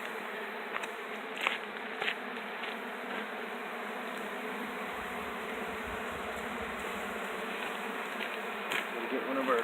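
Honey bees buzz around an open hive during requeening of Africanized splits with VSH Italian queens. The dense, close, continuous drone carries a few louder passes near the listener, with soft handling noises.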